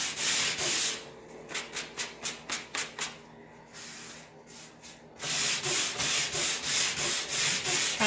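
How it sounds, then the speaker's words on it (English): Rhythmic scraping strokes pull old varnish and softened paint stripper off the wood of an antique dresser, with long continuous rasping passes at the start and end and a run of short, evenly spaced strokes between, close and alone. "we'll keep pulling this little last bit of old varnish and the paint stripper off"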